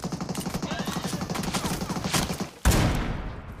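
Gunfire in a battle royale video game: rapid bursts of automatic shots in a fast rhythm, then a sharp louder blast and rumbling decay near the end.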